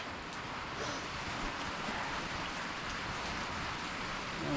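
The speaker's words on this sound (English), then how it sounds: "It's raining harder now." Heavy rain pours steadily during a flash flood, a dense, even hiss of drops on surfaces that swells slightly louder toward the end, with no voices.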